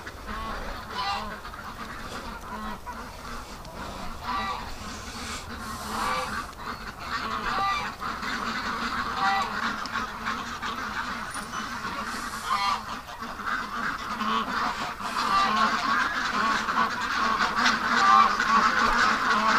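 Panicked ducks in a pen quack and honk almost continuously, a dense overlapping chorus that grows louder toward the end.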